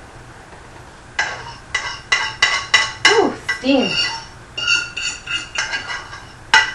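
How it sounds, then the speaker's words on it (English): A metal fork scrapes and clinks repeatedly against a pan in uneven strokes while making overnight oats, loud and close, with a brief spoken word. "I think that's like one of the worst noises in the world. Forks against pans."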